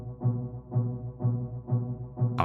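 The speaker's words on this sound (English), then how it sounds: "The final sound in the green leads group is a violin or like a string type thing." A violin- or cello-like string synth sound, layered from Pigments and Emulator 2 presets, swells through five slow, evenly spaced low notes, each fading in softly, with a brighter burst at the very end; no talking.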